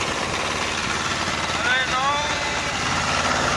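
Engine of a tractor-drawn cart hauling grapes to a winery idles with a steady mid-low rumble, struggling and failing to pick its revs back up, with a brief whine rising over it midway.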